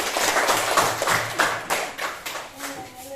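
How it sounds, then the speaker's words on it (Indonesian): A small classroom group of students claps in a few loose, uneven bursts, close and moderately loud, fading toward the end with a faint voice underneath. "Tepuk tangannya."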